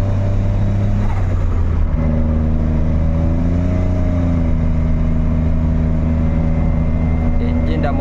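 A modified Nissan March engine fitted with 73 mm pistons in a Kancil hums and revs steadily, its pitch stepping up and holding, loud and close, with no speech over it.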